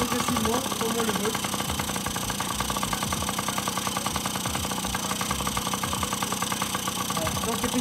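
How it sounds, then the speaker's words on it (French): A Yamaha PW50 motorcycle engine idles steadily after a carburetor adjustment, a continuous close buzzing putter with a fast even rhythm that holds constant throughout. "donc le ralenti redescend progressivement, comme on le veut"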